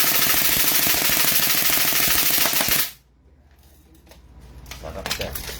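An SRC M4 Assassin airsoft rifle on full auto rattles out a dense, loud, rapid burst of shots for nearly three seconds, then cuts off abruptly into quieter room noise with faint clicks.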